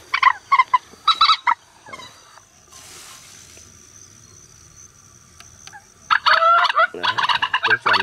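A recorded purple swamphen call plays through a bird-luring speaker, a loud run of harsh, honking cackles at the start, then a lull with faint hiss, before the calls return in dense, repeated bursts.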